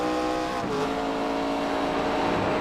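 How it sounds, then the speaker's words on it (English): A NASCAR stock car in iRacing at Homestead-Miami Speedway drones at high revs, a loud sustained engine tone with a brief dip in pitch, like a gear change, early on. "you hear the horsepower is just a little bit different than what we're used to hearing with the Gen 4 stock car"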